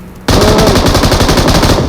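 Loud, rapid automatic gunfire in PUBG Mobile erupts abruptly and continues in a steady rattling burst, close and dominant with no voices.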